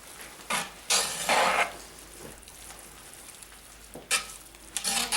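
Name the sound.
stirring funeral potatoes mixture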